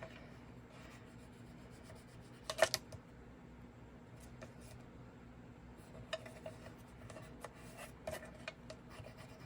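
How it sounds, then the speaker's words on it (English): Paper glued onto chipboard being burnished down by hand for a papercraft stamping project, a quiet scattered rubbing and scraping with a brief louder burst of strokes, close and alone. "Burnish it down."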